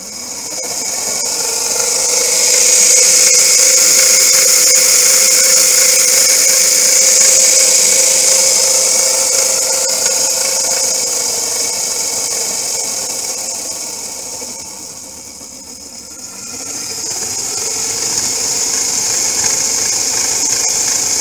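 A 12-volt DC motor on a go-kart controller project spins with no load, giving a steady, loud electric whine and hum that dips briefly in the middle before rising again.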